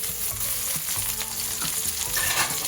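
Medium-sized onion frying in a little oil in a kadai for vegetable fried rice, a steady loud sizzle with intermittent scraping stirs of the spatula.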